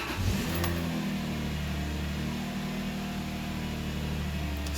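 Subaru car engine starting after an in-tank fuel filter replacement: a brief crank catches into a steady idle that holds loudly and evenly throughout, with no talk.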